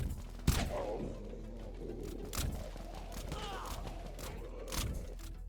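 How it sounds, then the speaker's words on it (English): Gunfire from a Dusk carbine in the Dead Frontier video game, a few separate sharp shots spaced a couple of seconds apart over a steady murky game background. "Sounds like he's using the Dusk carbine."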